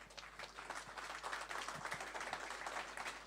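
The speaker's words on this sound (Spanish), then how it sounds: "dale un aplauso a Jesús" A church congregation applauding in praise of Jesus at a worship service, steady dense clapping from many hands filling the space for several seconds, with no speech over it.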